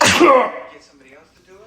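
A single sharp sneeze bursts out at the start, loud and close, then fades as people talk quietly afterward.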